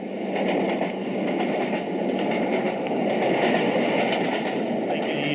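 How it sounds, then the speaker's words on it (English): A train runs through the Scottish Highlands with a steady, dense rumble of wheels and carriage noise, unbroken and fairly loud throughout, with no talking. "Train ride through the Scottish Highlands."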